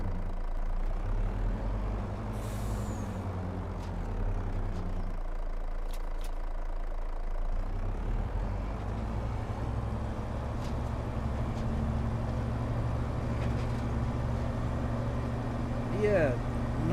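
A truck engine idles in Farming Simulator 25, a steady low rumbling drone with a faint knocking texture that holds throughout, with someone talking over it.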